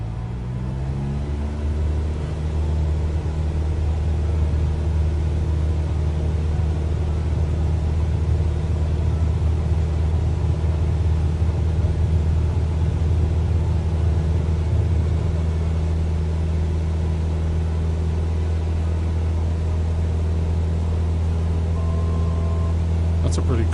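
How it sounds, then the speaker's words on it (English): An aircraft engine in Microsoft Flight Simulator drones loud and steady during takeoff over water, with a continuous low roar and a slight pitch rise at the start. "That's a pretty cool takeoff, looking over the water like that."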